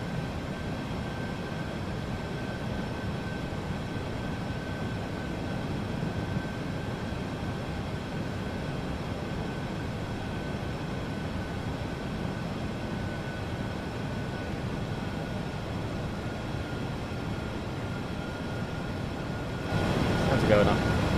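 A PMDG 737NG airliner lands in Microsoft Flight Simulator 2024, with a steady loud cockpit engine and airflow roar throughout and a thud and rumble near the end as it touches down.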